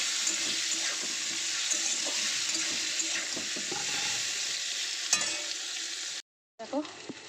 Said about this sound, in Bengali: গাটি কচুগুলো একটু তেলে ভেজে নেব।